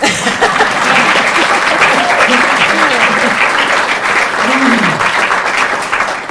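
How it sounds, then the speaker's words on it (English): Loud, sustained applause from a climate summit audience of mayors in New Jersey fills the room throughout, with faint voices and a cheer rising within it. "Now you can clap."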